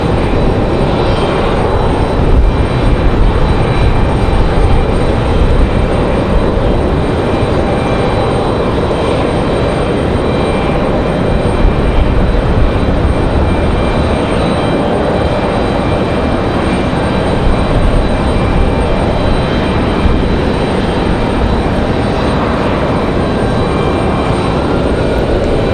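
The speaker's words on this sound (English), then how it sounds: "So we got Delta Airlines on the end of the runway there." Delta Airlines Airbus A320-200 airliner at the end of the runway at Raleigh-Durham airport, a loud, continuous engine roar holding steady and close without any talk.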